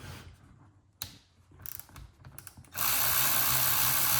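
A ratchet loosens transmission control module bolts on a 1985 squarebody truck with an LS swap and a 6L80/6L90 transmission. Scattered close pawl clicks and clunks come first, then a loud, steady broadband rush fills the last second and a half.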